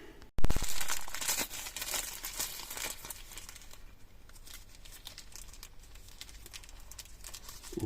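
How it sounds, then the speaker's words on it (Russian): A plastic packet holding a flux syringe is torn open up close, starting with a sharp rip, then crinkling and rustling of the plastic continuing steadily and more softly. "Распечатываем."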